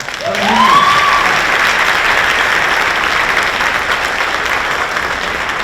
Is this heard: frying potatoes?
no